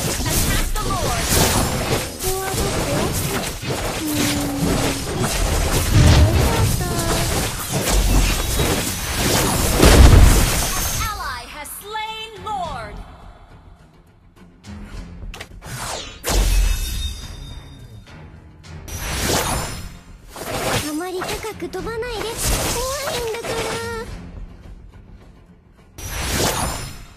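Turret being destroyed in a mobile MOBA match, a dense chaotic stretch of booms, whooshes and explosive bursts followed by sparser impacts and effects, with a voice speaking over the game sounds.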